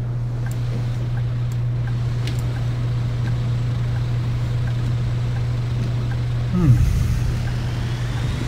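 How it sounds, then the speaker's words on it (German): Low, steady bus engine hum in the video game Bus Simulator 18, heard with a window open, drones throughout with a faint rushing background, then a brief rumble near the end. "Jetzt, wenn ich das Fenster offen habe, hört man auch den Motor."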